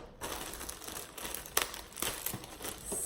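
A clothing delivery package is opened by hand without scissors, with plastic wrapping crinkling and crumpling up close, and a few sharper rustles and tearing sounds, no talk.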